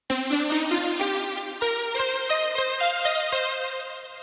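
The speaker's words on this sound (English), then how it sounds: "you play them as a layer, then it sounds like this." Two analog synthesizers layered together play the same melodic line, combining a full, thick low body with a punchy attack on each note, loud and sustained across several steps.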